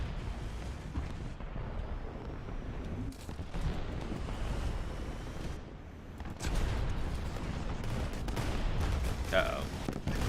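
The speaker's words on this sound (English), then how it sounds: "I wonder how many tracks I could bust if I just dropped artillery." Artillery shells strike in a War Thunder tank battle, a rumbling series of distant explosions and heavy booms that swell and fade under someone talking.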